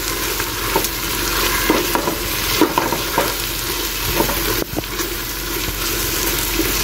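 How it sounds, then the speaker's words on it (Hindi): Tomatoes and basic spices stirred and fried together in a pan, a steady close sizzle broken by repeated scraping strokes of the spoon throughout. "अभी हम इसको अच्छे तरीके से भून लेते हैं और टमाटर को भी सारा मिक्स अप कर लेते हैं"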